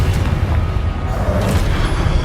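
A Confringo spell explosion in the Hogwarts Legacy video game, a deep rumbling boom that fills the clip, heavy and sustained, with a few faint crackling bursts on top and no speech.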